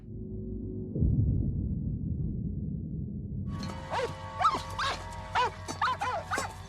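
A dog barks in a scene from the 1988 horror film The Blob: a short run of sharp, close yips and barks in the second half, preceded by a low rumbling film soundtrack with no speech.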